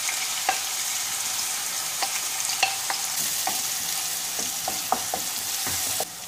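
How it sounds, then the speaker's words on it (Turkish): Chopped onions frying in hot oil in a pan, a steady soft sizzle broken by occasional sharp clicks of stirring. "Kızan yağın içine 2 adet yemeklik doğradığım soğanı ilave edip kavuruyorum."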